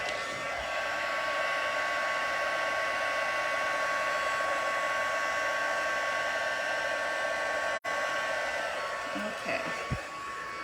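A heat tool blows steadily and loudly at close range for about ten seconds, melting adhesive on a gilded floral card, with one brief cutout partway through and a few faint clicks near the end.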